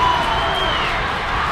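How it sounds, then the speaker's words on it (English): A college club hockey crowd at a Colorado State versus Colorado game roars loudly in a brief, dense burst of cheering. "I look down for 2 seconds and the crowd goes nuts."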